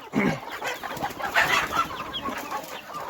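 Native village hens cluck and murmur close by in a busy run of short calls, with soft farmyard rustling in the background.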